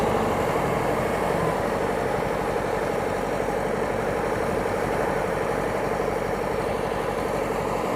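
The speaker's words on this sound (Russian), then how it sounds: "Здесь у нас работа на погрузке торфа. Работает Амкадор 342" Amkodor 342 loader working at peat loading, its diesel engine running in a steady, loud, unbroken drone with a low throbbing rumble throughout and no voices.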